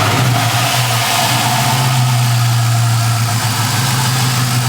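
A loud, steady rumbling LS1 V8 idle close by in a 1984 Buick Electra wagon, deep and throbbing without pauses or voices.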